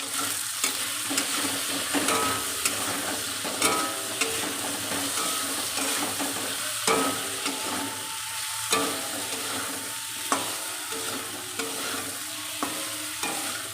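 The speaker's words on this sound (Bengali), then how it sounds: "হলুদ লবণ দিয়ে কলাটাকে একটু ভেজে নিচ্ছি।" Green banana fries with turmeric and salt in a pan, giving a steady bright sizzle with repeated scraping stirs at irregular intervals, close and loud with no talking.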